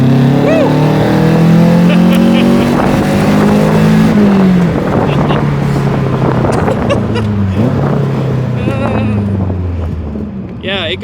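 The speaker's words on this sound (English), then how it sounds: "It's one of the better sounding four-cylinder, NA four-cylinders that I've heard." The naturally aspirated Toyota 4AG four-cylinder in a 1996 Lotus Super 7 replica, a 130-horsepower car under 1,400 pounds, revs up close and loud, climbing and falling in pitch before easing off.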